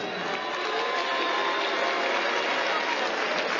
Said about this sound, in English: Thompson getting a pretty sporting round of applause from the big crowd here in Liverpool